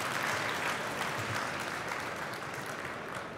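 Audience at a startup pitch semifinal applauds in a sustained wash of clapping, moderately faint and slightly distant, holding steady then easing a little toward the end, no voices over it.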